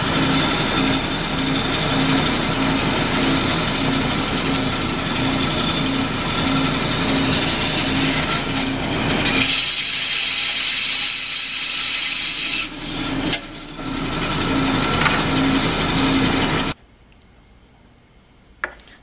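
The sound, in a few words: bandsaw cutting deer antler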